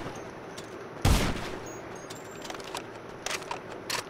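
Gunfire in GTA Online: a loud, close burst of rapid shots followed by scattered single cracks and a low ambient rumble, with no talking.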